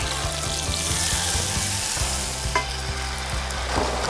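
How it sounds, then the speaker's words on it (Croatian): Chopped onion sautés in a little oil in a pan, a continuous close sizzle broken by a regular series of soft scraping stir strokes, with one sharper clink near the middle and no talking. "Prodinstat malo luka."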